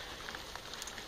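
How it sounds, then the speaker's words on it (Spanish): Rain falls steadily, a dense hiss of drops pattering on surfaces outdoors with no talking. "Está bañado en agua ahorita el canijo porque está llueve y llueve."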